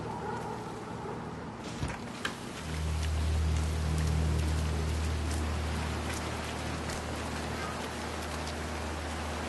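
Steady rain falling in the stealth video game Hitman 3, a dense even hiss that thickens after a couple of seconds, with a low droning hum underneath and no clear speech.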